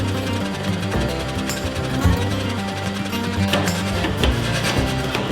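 60kg Sahinler power hammer forging the cheeks of a 12 lb sledge hammer, a fast continuous pounding of heavy rapid blows, loud and close, with metallic clanks layered over the steady mechanical thud.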